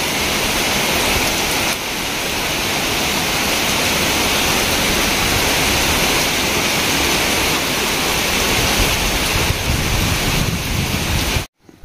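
Heavy, unbroken roar of torrential cyclone rain pouring down in Sinnar, loud and dense for the whole stretch with a gusty, wind-buffeted wash and no voices, cutting off abruptly at the end.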